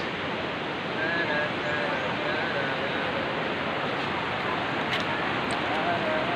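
A river flows steadily as a broad, continuous rush of water close by, with faint tonal whines threading through it.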